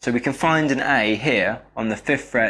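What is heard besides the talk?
No everyday noises stand out.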